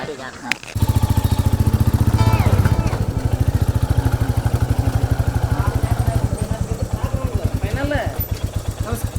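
A Royal Enfield Bullet idles loudly at a petrol pump, its single-cylinder engine thumping in a steady, rapid beat throughout, while voices talk over it close by.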